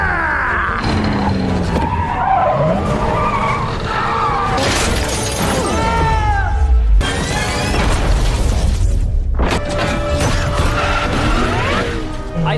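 Robotnik's high-tech attack car chasing in the Sonic the Hedgehog film, loud tire squeals, skids and whooshing passes punctuated by crashes and shattering impacts, with mechanical whirs and a brief voice buried in the action.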